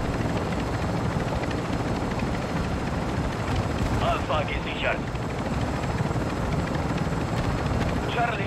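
In Call of Duty: Modern Warfare II, a helicopter gives a constant, loud rotor drone throughout, with short bursts of game sound effects over it.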